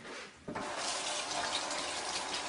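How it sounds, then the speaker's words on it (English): Warm water gushes steadily from a kitchen tap, starting softly and then swelling into a full, constant splashing stream. "You can get this right out of the tap."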